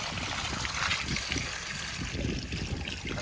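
Water rushes steadily from an opened valve outdoors during the rain season, a constant loud splashing flow with no pauses.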